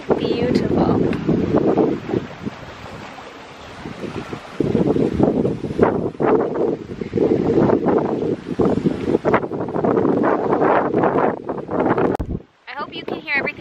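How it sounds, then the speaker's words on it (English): Strong wind blowing outdoors at a summer cottage, loud gusty rumble buffeting the microphone throughout, with someone talking over it. "It's really windy."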